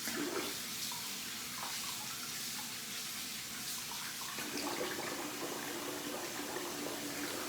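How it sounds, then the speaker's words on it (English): Tap water runs steadily at a barbershop sink as a face is rinsed after a shave, making a soft continuous splashing hiss throughout, with no talking. "I'm gonna rinse the face here."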